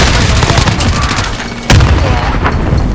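A grenade blast and bursts of gunfire in Call of Duty: Modern Warfare, loud and close, with rapid shots throughout and a heavy boom partway through.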